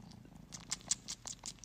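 A cat purring close up, a soft steady rumble with rhythmic breathy pulses, quiet and alone.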